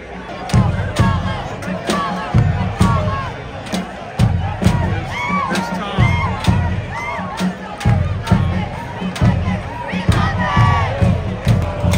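A supporters' group of soccer fans at a Tampa Bay Rowdies match chants and cheers in loud rhythmic bursts, with sharp slams or drum hits punctuating the roar of the nearby crowd.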